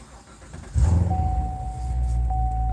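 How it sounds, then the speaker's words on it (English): A car engine cranks and catches partway through, then settles into a steady idle hum, with a thin electronic tone beginning soon after start-up. "turn this car on"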